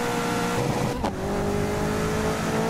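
Race car engine in GRID 2019 revving hard and accelerating, a loud sustained drone with rising pitch and a brief shift dip partway through, close and continuous with no talking.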